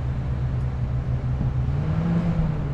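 Overlanding vehicle idling in neutral on a rocky Utah trail, a steady low engine drone held close and even, with no talk over it.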